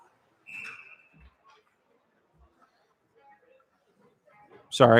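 Referee's whistle blown during a college ice hockey game, a short steady tone early on, with faint arena crowd murmur and a louder burst near the end.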